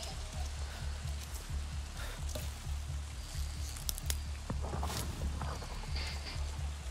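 Rain hisses steadily in Avatar: Frontiers of Pandora, with scattered close drips and patters, layered over a low pulsing rhythm.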